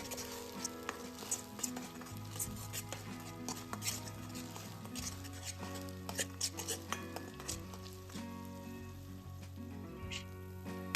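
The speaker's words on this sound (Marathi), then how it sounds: "मंद गॅसवर हा मसाला आपण छान परतून घेऊया" Masala paste frying slowly in oil over a low gas flame, a continuous soft sizzle with occasional spoon scrapes and clinks against the pan, set under steady background music.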